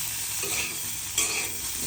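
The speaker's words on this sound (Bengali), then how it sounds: "আলু আগে ভাজা নিব" Potatoes fry in a pan for an egg curry while being stirred, a close, quiet, steady sizzle with a scrape of stirring partway through.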